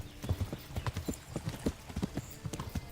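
Hooves of a galloping horse in the medieval game Kingdom Come: Deliverance, a quick, steady, evenly spaced clip-clop at moderate volume with no talking over it.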